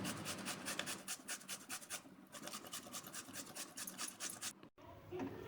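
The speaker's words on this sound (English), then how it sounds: "we should grate it directly in the milk." Bottle gourd (dudhi) grated straight into milk, a quick, even run of rasping strokes close by, with a brief pause near the end.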